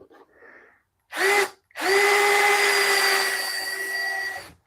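A power drill drives screws into wood. A short whir stops abruptly, then a longer steady high-pitched drive runs several seconds before winding down, loud and close with no talk.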